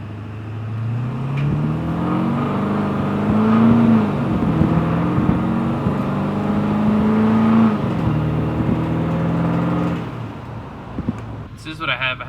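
A 7.3 diesel van engine idles and revs on the Cummins Killer tune, a deep rumbling drone swelling in a few rising pulls, with someone speaking over it.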